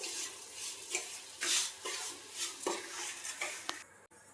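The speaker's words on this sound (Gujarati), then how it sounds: "ધીમા ગેસે જ આપણે હલાવતા રહેશું." Moong dal halwa is stirred over a low flame in a metal pan, a spoon scraping and clinking against the sides in uneven strokes with a soft background sizzle, and no voices.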